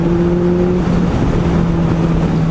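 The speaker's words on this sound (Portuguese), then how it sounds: "por que você dá uma acelerada quando reduz?" A Suzuki Bandit 650N motorcycle engine gives a quick throttle blip during a downshift, a short rise and fall in revs heard close up over steady riding noise.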